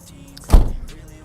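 A 2013 VW Tiguan's rear tailgate swings shut with a single solid, close thud, the slam ringing briefly before fading into quiet background.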